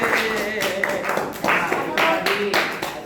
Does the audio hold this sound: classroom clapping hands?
yes